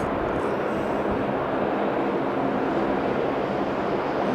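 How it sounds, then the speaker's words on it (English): A Jetstar airliner takes off at Sydney Airport, its engines a steady, loud broadband roar that holds evenly throughout with no voices over it. "Takeoff."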